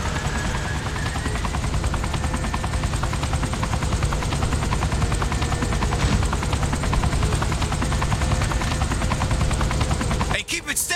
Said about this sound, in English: I've never flown anything like this thing before. It's called a helicopter.